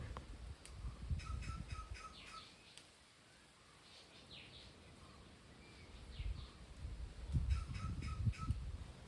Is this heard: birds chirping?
yes